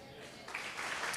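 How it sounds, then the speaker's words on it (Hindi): Audience at a religious talk gives a brief, faint, half-hearted round of clapping that rises slightly after a moment. "बस बस ऐसी सुस्त ताली खुद रख लो"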